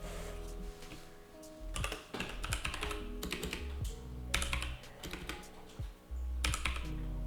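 Typing on a computer keyboard up close, with quick clustered bursts of key clicks separated by short pauses, crisp and fairly quiet.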